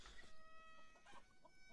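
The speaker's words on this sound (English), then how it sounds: "Can we go and say hi to the chickens?" Chickens in Beyond Eyes cluck softly in a farmyard, a few faint scattered calls over quiet game ambience and tonal music.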